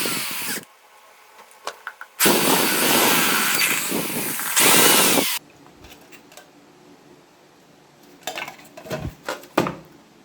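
A power drill whines loudly in two long bursts, broken by quiet pauses, then a few clattering knocks of tools being handled.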